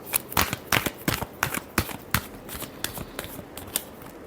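Tarot cards being shuffled by hand, a run of crisp riffling bursts in an uneven rhythm, close and fairly quiet, with no talking.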